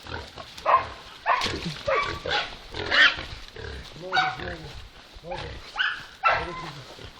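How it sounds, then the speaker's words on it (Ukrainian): Laika hunting dogs bay and yelp at a wild boar during training on a hunt, repeated loud barks and squeals close by, mixed with grunting from the boar and someone shouting over them. "Вепер, вепер навіть не знає, що йому робити. При таких собаках."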